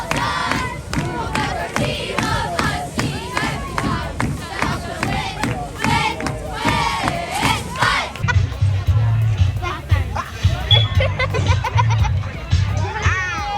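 A crowd at a football game cheers and shouts while children yell nearby. Loud, continuous babble and cheering fill the stands throughout, with a deeper rumble of noise in the final seconds.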